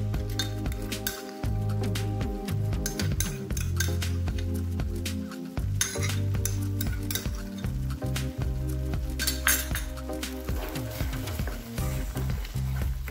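Cashew paste is stirred into a simmering shahi paneer gravy with cream, a continuous soft sizzle overlaid by frequent metallic clinks and scrapes of a spoon against the pot, close and steady, no speech.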